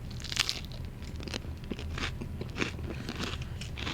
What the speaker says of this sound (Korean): 라디오 볼륨 조금 올리시고 씹는 소리 들려드리겠습니다.